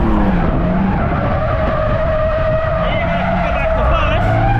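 A car accelerating hard at full power in first gear with tires skidding and squealing on 205-width tires, a loud continuous engine roar with screeching rubber, while a person talks over it.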